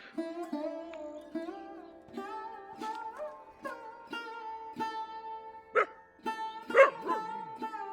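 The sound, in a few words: dog barking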